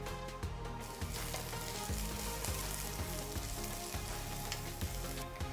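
Slit green chillies fry with golden brown onions in a pan, a continuous close crackling sizzle with bubbly popping throughout, alone without talk.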